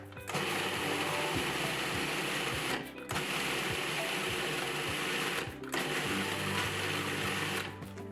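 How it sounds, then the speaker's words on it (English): A food processor pulsing onion, hot pepper, garlic and spices into a paste, with three loud whirring bursts separated by brief pauses and a low rattling motor drone throughout. "onion, hot pepper and garlic into the food processor and pulse it until it becomes a paste"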